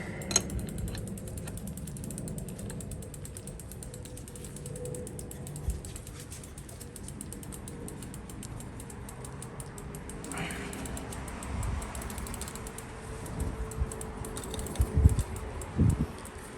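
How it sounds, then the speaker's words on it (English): A crank puller is turned by hand to pull a Truvativ/FSA ISIS Drive crank off a bicycle, giving faint repeated ratcheting clicks and creaks with a few louder knocks near the end. "Just keep on turning, eventually the crank will fall off."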